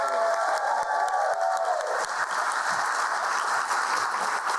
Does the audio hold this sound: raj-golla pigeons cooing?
no